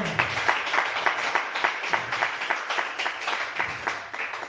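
Church congregation applauding in praise during a French-language worship service, a dense steady wash of many hands clapping in a roughly rhythmic pulse, moderately loud and sustained, fading slightly at the end.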